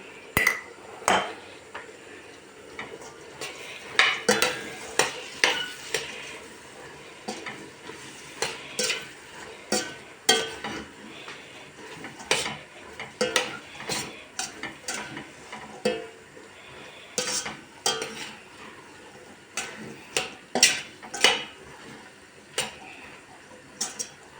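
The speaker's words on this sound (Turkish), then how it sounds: "Her yemekte yaptığım gibi fasulyede de tuzunu katarak kavuruyorum" Dried beans are sautéed with salt in a pot alongside onion and tomato paste, with a steady sizzle broken by frequent sharp scrapes and clinks of a spoon stirring against the pot.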